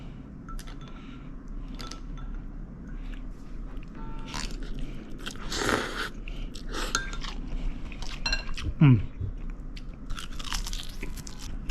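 Cold somen noodles dipped in sauce with wasabi being eaten: chopsticks and dish clinks, a loud slurp mid-way, then chewing and crunchy bites, close and quiet with no talking.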